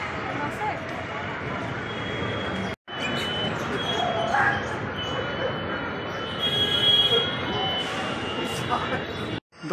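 A metro train running at Dakshineswar metro station, with continuous rolling rumble and a high metallic wheel squeal building midway, as people talk nearby throughout.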